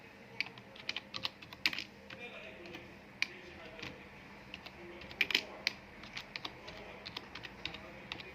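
Light, irregular clicking of computer keyboard keys in short bursts, fairly faint, with someone speaking quietly in French between the taps.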